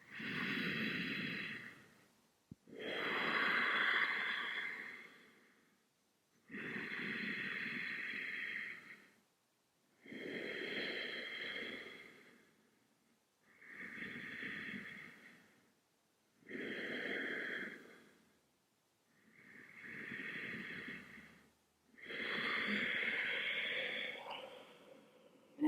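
Slow, deep breaths during a yoga flow, about eight evenly spaced breathy inhales and exhales with short silent pauses between them, close and fairly quiet with no talking.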